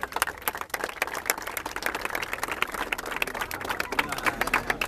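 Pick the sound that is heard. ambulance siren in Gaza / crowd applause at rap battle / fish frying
crowd applause at rap battle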